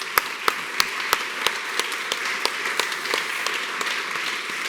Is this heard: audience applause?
yes